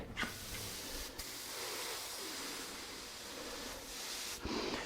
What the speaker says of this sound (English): When I spray this, what happens is my finish comes this way and it tapers and feathers into that edge